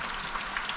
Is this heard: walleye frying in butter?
yes